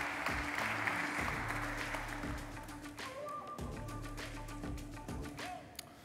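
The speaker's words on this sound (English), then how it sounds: "Let's give him a round of applause, ladies and gentlemen." A conference audience applauds a speaker, the clapping loudest at first and then gradually thinning, with faint room noise and scattered handclaps continuing toward the end.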